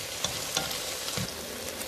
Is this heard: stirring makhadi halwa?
yes